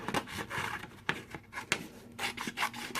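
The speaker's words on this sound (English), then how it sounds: "I'm going to cut a piece of black cardstock again" Black cardstock is cut and handled close by, producing irregular scratchy rasps and crisp clicks of paper and blade at moderate volume.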